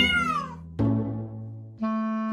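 A domestic cat meows three times, loud and close: a long falling cry, then two shorter calls separated by brief pauses.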